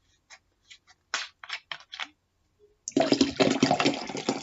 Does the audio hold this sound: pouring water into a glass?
yes